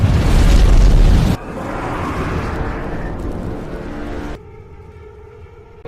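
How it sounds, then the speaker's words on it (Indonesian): A trap explodes in a Kong film, an opening loud deep boom that gives way to a rumbling roar, fading into a quieter lingering tail. "Dia meledakkan perangkapnya dan membuat Kong terbakar."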